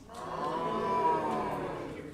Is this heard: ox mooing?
yes